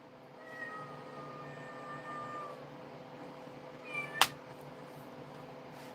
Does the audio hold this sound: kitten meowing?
yes